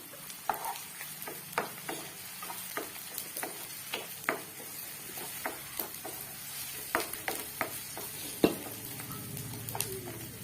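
Ginger and garlic fry with onions with a gentle sizzle while a utensil knocks and scrapes against the pan at irregular intervals.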